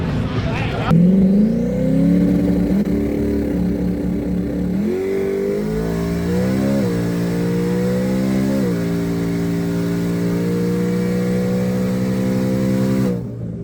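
A Ford Mustang drag car revs at high RPM, its loud engine note climbing in steps and holding steady between rises, close up and dominant throughout the roughly 14 seconds.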